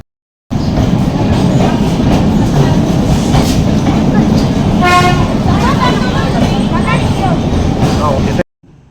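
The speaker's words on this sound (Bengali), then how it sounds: "এই যে টয় ট্রেন তোমাদের একটু দেখিয়ে দিই।" A Nilgiri toy train running from Ooty to Coonoor rumbles loudly and steadily nearby, with a brief toot of its horn partway through over the continuous rolling noise.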